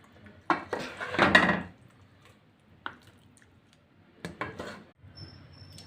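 Mutton and soya vegetable curry being served from the cooking pot: several short bursts of a spoon scraping and clinking against metal, with wet squelches of thick curry between quiet pauses.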